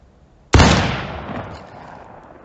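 A single musket shot, a sharp, loud close blast that cuts in from near silence and then rolls away in a long, fading boom over about two seconds.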